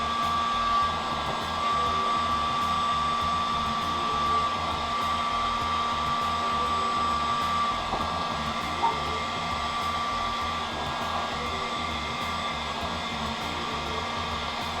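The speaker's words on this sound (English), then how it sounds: "I'm just going to heat these down on top of each other" Heat gun warming vinyl wrap on a VW Golf car grille, a loud, close, steady blowing roar with a constant whine that runs without a break.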